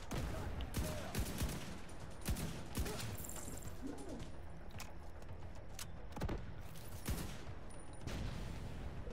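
Repeated bursts of gunfire in the Tom Clancy's The Division 2 video game crack through a dense, continuous game mix, with several sharp shots spread irregularly across the stretch.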